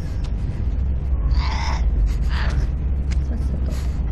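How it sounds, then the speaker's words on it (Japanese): Two short crow caws sound in the horror video game ZombiU, standing out briefly over a steady low ambient rumble. "あ、カラスね。"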